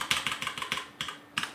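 Fast, light clicking of keys on a computer keyboard, up close, in an uneven run of taps with short pauses, alone and without talk.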